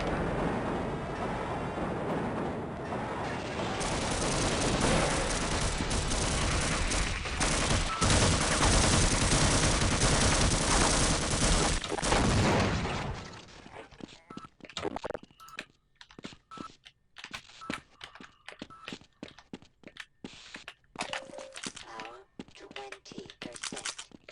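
Gunfire rattles through a dense, sustained burst in the Half-Life game for about thirteen seconds, then gives way to sharp, scattered shots and clicks, with someone talking over parts of it.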